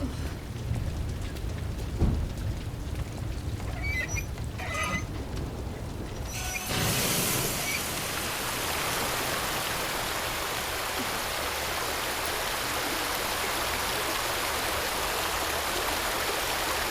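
Rain and running water in the survival horror game Resident Evil 2, heavy steady downpour hissing over the surface with flowing water, after a stretch of quieter ambience with a few faint knocks.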